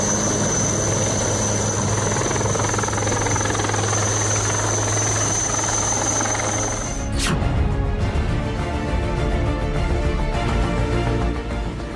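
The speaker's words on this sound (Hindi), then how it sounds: "बाढ़ में फंसे लोगों को सुरक्षित बचाने के लिए सेना के हेलीकॉप्टर को बुलाया गया।" An army rescue helicopter flies over flooded land during a relief operation in Madhya Pradesh. Its steady, loud rotor and engine drone lasts the whole stretch, and the tone shifts partway through as the aircraft passes.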